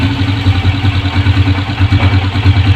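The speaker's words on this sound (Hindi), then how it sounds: "दोस्तों ये बाइक स्टार्ट कर दी है" A Honda CG125 motorcycle engine with a misfiring problem idles with a steady, rhythmic low putter and light mechanical clatter, close and alone.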